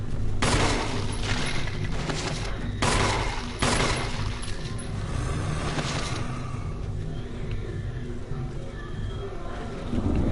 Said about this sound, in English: Okay, I'm gonna have to shoot these zombies.